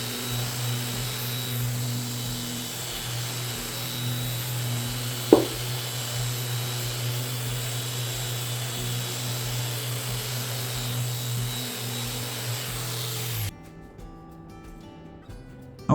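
Power sander fitted with a thick foam pad working over an old wooden milking stool, a steady droning hum held for most of the stretch with one sharp knock, then cutting off near the end.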